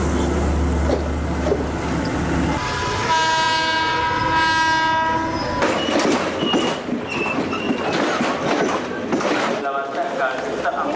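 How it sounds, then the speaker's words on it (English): A passenger train on the Ragama to Colombo line in Sri Lanka sounds its horn in long sustained blasts, then rumbles loudly along the rails with rattling carriages and a busy background of noise. "Our cameras captured how passengers had travelled from Ragama to Colombo on a train."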